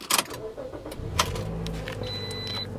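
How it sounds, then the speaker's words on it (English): A 2012 Toyota Matrix FWD is started with a key: a short starter crank catches and the engine settles into a steady idle hum, followed by a thin electronic chime, with no talking. "Key ignition."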